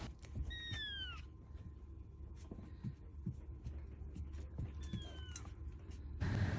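A lone stray kitten meows twice, thin rising-falling cries about five seconds apart, heard close over a steady low background hum.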